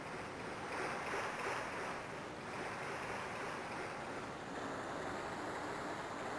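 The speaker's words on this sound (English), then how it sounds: "This waterfall will protect us." A steady waterfall roars in the Resident Evil 2 video game, a constant, full rush of falling water at moderate level with no talk over it.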